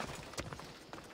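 Horse hooves clip-clopping in Assassin's Creed Odyssey, a few quick irregular thuds over a busy game soundscape, fairly close and moderately loud.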